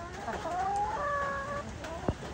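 A hen clucks and warbles in a few short calls, fairly close, followed by a brief sharp knock near the end.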